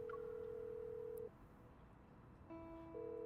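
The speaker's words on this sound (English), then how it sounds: "I tried calling Caleb, but he doesn't answer the phone after 2 rings." A phone call rings out in a video game, with a steady electronic tone, a short gap, then a two-pitch tone resuming, all faint and alone over a low background hiss.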